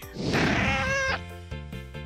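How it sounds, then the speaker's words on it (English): A cat gives one long, loud, drawn-out meow that rises and fades, followed by a short quieter tonal sound and faint background. "It sounded like a cat in trouble."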